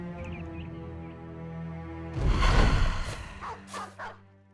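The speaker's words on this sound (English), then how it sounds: "War Dogs." War dogs in the Battle Brothers video game: one burst of loud, rough barking arrives abruptly after a quieter musical stretch, followed by a couple of shorter yips.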